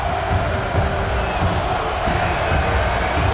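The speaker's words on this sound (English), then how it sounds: "These Warrior fans are going crazy as Luka ties up the game, looking to force 7" Fans of the Golden State Warriors cheer in the video game NBA2K21 during a playoff game in San Francisco, a loud, continuous arena roar with rising whoops.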